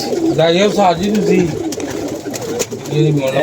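Pigeons coo in soft, rolling bursts, fairly close, with a murmur of people talking in the background.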